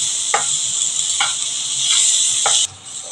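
Carrots and capsicum sizzle steadily in a pan for egg chow mein, a close, constant hiss of frying broken by three quick stirring scrapes before it briefly drops away.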